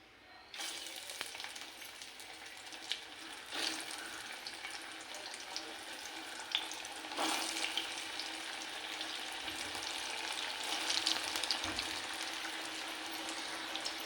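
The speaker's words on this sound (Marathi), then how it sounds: "हे बघा कशा वड्या मी तळून घेतल्यात संपूर्ण" Alu vadi, colocasia leaf rolls, fry in hot oil with a steady, dense sizzle and crackle that runs close and fairly loud throughout, with a few louder spits and bursts and no talking.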